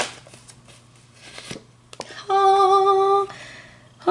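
Tarot cards are shuffled by hand in short riffling bursts, followed by a brief sustained ringing chime, with speech audible in between.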